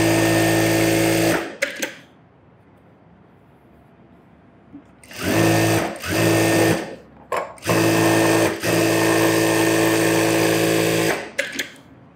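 A sewing machine runs in a tailoring lesson, stitching a one-inch sleeve seam in loud rapid bursts separated by short pauses, with no talk over it.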